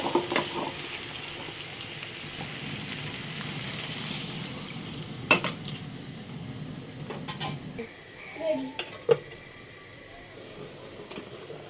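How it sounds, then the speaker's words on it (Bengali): Chicken pieces cooked down with spices sizzle and hiss softly in a pan, a low steady frying bed broken by occasional spoon clinks and stirring knocks, with a voice briefly heard. "আমার মুরগিটা কষানো হয়ে গেছে"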